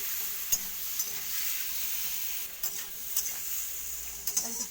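Tomatoes with turmeric cook in a frying pan for a tomato chutney, giving a soft, steady sizzle with a few light spoon scrapes and taps against the pan.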